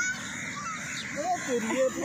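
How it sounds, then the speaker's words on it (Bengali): Several crows caw at an open ground near a memorial, giving a few short, harsh calls at mid distance over outdoor ambience and nearby voices. "ওই তো কত কাক।"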